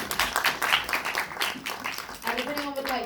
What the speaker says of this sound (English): we'll have a round of applause for Fashion Reimagined